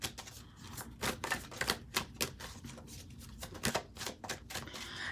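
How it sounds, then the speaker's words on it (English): A deck of oracle cards is handled and pulled, giving a quiet run of crisp, irregular clicks and snaps, some in quick clusters, with no voices. "I'm going to pull another oracle card for you all."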